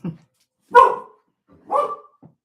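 A single excited dog lets out two loud, close barks about a second apart, with softer yips before and after.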